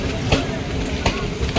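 A crowded local train rolls along, its broadband rumble and rattle holding steady throughout, with a couple of brief clanks and a murmur of voices from packed passengers.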